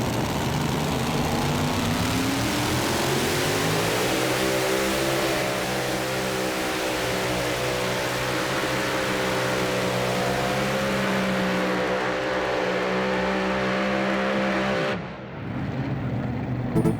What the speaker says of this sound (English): It looked like the tractor might have got hooked up so hard that it got on the wheelie bars just a touch